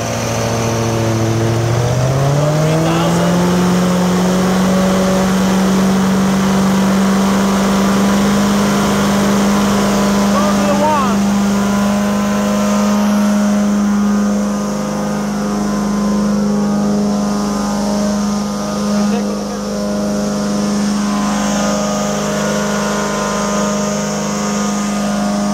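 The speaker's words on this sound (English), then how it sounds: "I'm gonna go ahead and increase our RPM." A 2010 Amtex Inferno Eruption truckmount carpet-cleaning engine rising from idle to a higher, steady RPM, its loud droning tone climbing early and then holding, close by and continuous.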